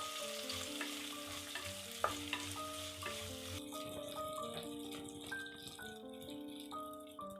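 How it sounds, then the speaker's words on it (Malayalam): Sliced shallots and green chilies sauté in a hot pan for a jackfruit core curry, a steady soft sizzle with occasional stirring rattles beneath background music. "എന്നിട്ട് നമുക്കിതൊന്ന് വഴറ്റിയെടുക്കാം."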